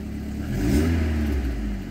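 A cold 1993 Alfa Romeo 155 1.8 TS engine gets a gentle blip of throttle, its low rumble swelling smoothly then settling back to idle, close and steady.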